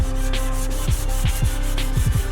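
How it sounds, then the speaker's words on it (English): Trim being wet sanded by hand with 400 grit sandpaper, a close, steady rhythm of soft rubbing strokes, several quick back-and-forth passes with no talking. "I'm gonna go ahead and wet sand it, that way I can tell where my low spots are at"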